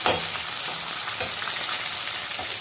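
Onions fry with fennel seeds in hot oil for kudal kulambu, giving a close, steady hissing sizzle with a few soft stirring scrapes, no voices.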